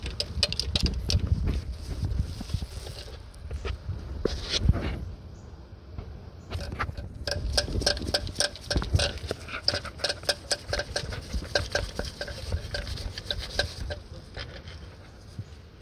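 A socket wrench works at the starter bolts of a 2004 Honda Civic 1.7. Bursts of rapid, close ratcheting clicks come and go, with clanks of metal tools in between.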